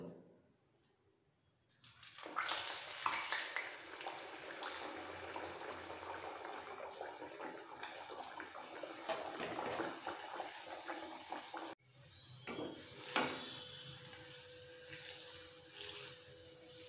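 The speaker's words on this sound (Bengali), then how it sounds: "তারপর গ্যাসটা একটু কমিয়ে বেলা পুরিগুলো ছেড়ে দেবো।" Rolled chana dal puris dropped into hot oil in a wok on a lowered gas flame, a steady loud frying hiss that starts after a quiet moment and continues, with a brief clatter near the end.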